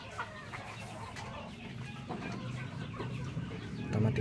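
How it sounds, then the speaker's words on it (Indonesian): Chickens cluck and murmur at feeding time, scattered soft calls over a faint farmyard background, fairly quiet and moderately close. "Kita kasih makan ayam ya."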